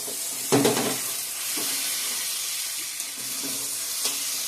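Mushroom curry sizzling in hot oil in a pan, a steady broadband fry hiss running throughout at moderate level, with a few soft stirring knocks near the start and scattered small clinks, no voices.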